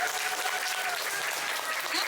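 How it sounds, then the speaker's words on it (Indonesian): An audience at a forest conservation talkshow applauds elementary school children, a dense, steady patter of clapping heard at moderate distance without pause. "boleh nggak saya minta tepuk tangan yang luar biasa buat adik-adik yang"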